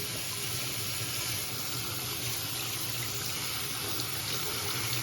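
Tap water runs steadily into a sink while a freshly dyed disc golf disc is rinsed off, a constant close rushing hiss with no talking.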